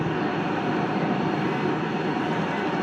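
An airplane's engines run with a loud, steady, unbroken roar close by while cars are driven aboard the cargo plane, a dense wash of noise that never lets up.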